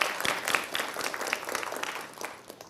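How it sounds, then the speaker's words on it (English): Audience at a college honor society induction ceremony applauding, a continuous, fairly loud wash of many hands clapping with no talk over it. "let's give another round of applause for Julia Hallowell"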